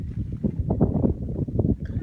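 Strong wind on a Taurus Mountains highland plateau roars and buffets the microphone in low, gusty bursts, with no voices.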